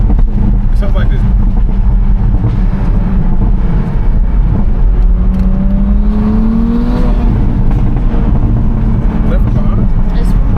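A Toyota Supra with a catless downpipe exhaust rumbles loudly up close. A rising whine sweeps upward midway as it revs, and voices talk over it.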